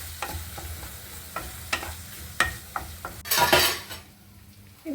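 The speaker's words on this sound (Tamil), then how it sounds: "இஞ்சி பூண்டு விழுது 1 டேபிள் ஸ்பூன். அதை நல்லா சாட்டே பண்ணிக்கிறோம்." Ginger garlic paste sautéing in a pan for kothu paratha, with repeated spoon scrapes and knocks against the pan over a low sizzle, then a louder burst of frying before it quiets.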